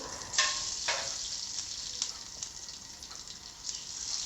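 Crushed garlic sizzles in a hot cumin and asafoetida tempering, a steady bright frying hiss close by, with a few sharper spits and stirring scrapes.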